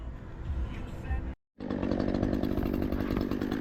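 A chainsaw with a freshly sharpened chain runs up close, a loud buzzing drone that cuts out for a split second and then roars back higher and steadier.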